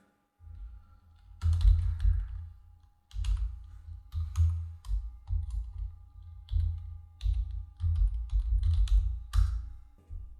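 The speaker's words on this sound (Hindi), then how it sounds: "चलिए tally.net ID लिख लेते हैं यहाँ पे।" Typing on a computer keyboard while entering an ID into Tally Prime accounting software, heard as bursts of close, rapid key clicks with short pauses between.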